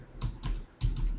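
Keystrokes on a computer keyboard while code is typed, four quick clusters of clacks in two pairs with a short pause between, close and fairly loud.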